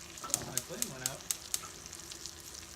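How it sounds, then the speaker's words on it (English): Garlic and herbs sizzle steadily in a pan beside filet mignon, a close, bright frying crackle with a few sharp pops, no talk over it. "But sauteing these herbs is just so delicious"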